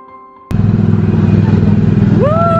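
Autopia ride car at Disneyland Paris starting up: a sharp click, then a steady loud engine drone with a rattly rumble that carries on close by, with excited voices rising near the end.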